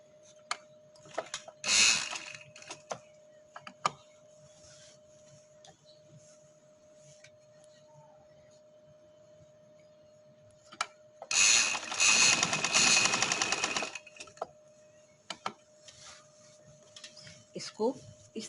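A sewing machine runs in two loud bursts while stitching a V-neck, one short and one longer, with quiet gaps and faint handling noises between.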